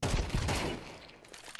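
Gunfire from the video game Counter-Strike 2: a loud, dense burst of shots at the start that fades over about a second, followed by quieter scattered sounds.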